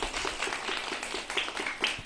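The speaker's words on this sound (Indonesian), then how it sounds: "Kalau bergembira, tepuk tangan semuanya." Kindergarten children clapping their hands together in a group during a stage performance, a dense, rapid patter of many small claps at moderate volume.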